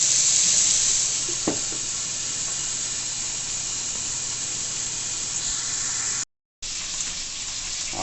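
Jerk chicken sizzles on an oiled grill, a steady, close hiss of frying that carries on throughout, with a brief sharp pop partway and a short break near the end.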